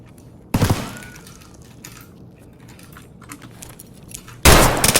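Gunfire in a first-person shooter, two loud blasts a few seconds apart framing a quieter stretch of faint clicks and game noise, with no talk during the shots.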